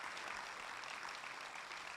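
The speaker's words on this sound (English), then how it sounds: "So give yourselves a huge round of applause." Faint, steady audience applause from a distance, an even wash of clapping with no voices over it.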